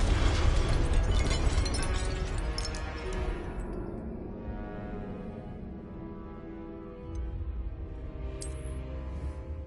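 A fire spell is cast in the video game Hogwarts Legacy, giving a loud roaring burst of flame that fades into a sustained crackling rumble before a smaller flare near the end, with no talking.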